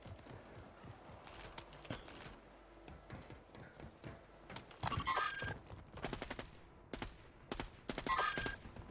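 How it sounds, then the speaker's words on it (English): Rapid bursts of squadmates' gunfire in an online shooter game, dense volleys in clusters with short pauses between them, loud and close against a noisy background. "Can your guns be any louder, fellas?"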